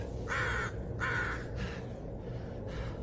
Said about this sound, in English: Oh, crows.